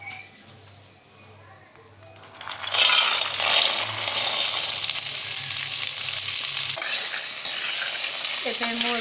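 Vegetables for Odia ghanta tarakari fry in a little oil. After a quieter opening with a voice, a loud, close sizzle bursts in and carries on steadily to the end.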